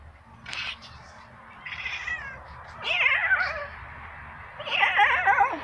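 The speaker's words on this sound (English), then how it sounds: "Hear her meowing?" A cat meows several times, rising and falling cries that grow louder toward the end, with low background hum between calls.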